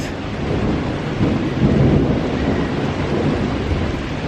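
Heavy rain pours steadily outside a window during a June thunderstorm, a dense close hiss with low thunder rumbling through the middle, loud and continuous without speech.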